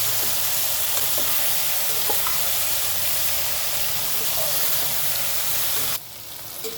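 Ladyfinger (okra) curry frying in a pan, giving a steady loud sizzle that runs unbroken and then drops abruptly near the end, with no voices over it.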